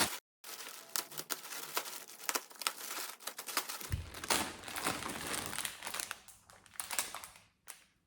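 Plastic packaging crinkles and rustles continuously, with sharp crackles and tearing sounds as a package is opened up close.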